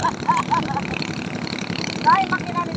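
An outboard-style boat engine runs steadily near a fish cage off Alaminos, Pangasinan, a moderate drone under people talking nearby.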